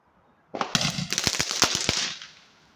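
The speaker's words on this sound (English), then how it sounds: "We're going to light up some fireworks." Bonfire Night fireworks on the 5th of November, a rapid burst of loud, sharp crackling bangs and pops lasting about two seconds, then fading into a brief decaying tail.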